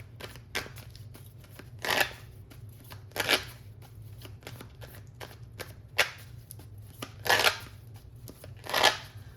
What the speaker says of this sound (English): We're going to also live shuffle some tarot as well.